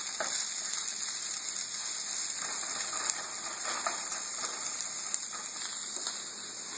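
Chopped sweet onion crackles and hisses in a hot pan over medium heat as it is stirred. A continuous sizzle runs throughout, with scattered clicks and scrapes from the stirring, and no one speaks.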